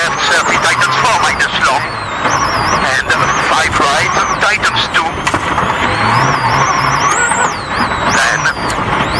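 Subaru Impreza rally car at Rally Argentina 2008 revs hard, engine pitch climbing and dropping through repeated gear changes and braking, loud and close, with a commentator talking over it throughout.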